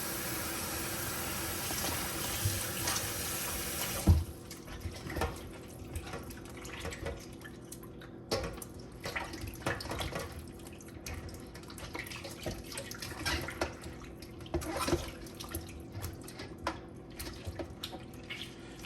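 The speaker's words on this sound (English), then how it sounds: "So first I'm gonna start by washing my pork, right? And I'm gonna use a lemon, right, to actually wash the pork." Pork shoulder being washed with lemon under a running kitchen tap: a steady rush of flowing water for about four seconds, then quieter splashing, dripping and handling sounds nearby, no speech.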